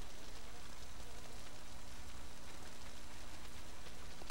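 Steady, hissing video game rainfall falls on trees outside a haunted mansion, patters continuously at a low level, an even wash of droplets with no break.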